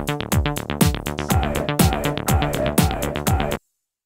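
Built-in drum set on a Casiotone CT-S10 keyboard playing a steady beat of punchy kick and snare hits with crisp cymbal ticks for a few seconds, then stopping abruptly into silence.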